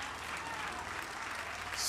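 A church congregation applauds during a French-language sermon, with dense clapping throughout and a pastor's voice faintly mixed in.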